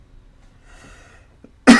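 A single sharp, loud cough bursts out at the very end after near silence, preceded by faint breathy sounds.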